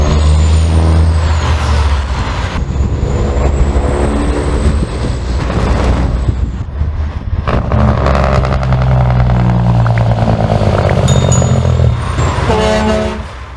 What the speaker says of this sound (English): I know you guys are missing the sound of a Jake brake and all that good stuff